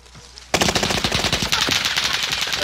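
Automatic gunfire in Call of Duty Warzone rattles in a rapid, loud burst of close shots that starts abruptly and continues for a couple of seconds.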